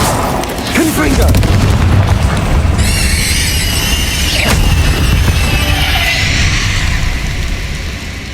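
A Confringo fire spell explodes in Hogwarts Legacy combat: a loud, sustained booming blast, then a bright ringing crackle and a second whooshing impact midway, all under continuous dense game noise with no talk.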